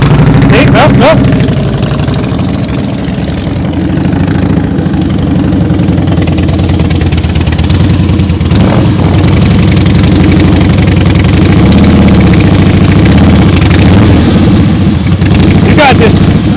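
A motorcycle engine idles and putters steadily throughout slow speed riding practice, with an instructor speaking over it.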